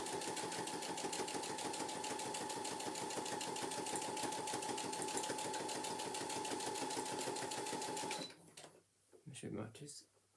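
A sewing machine stitches down the outline of a handbag, running fast and steady at close range for about eight seconds, then stopping and giving way to softer handling noises.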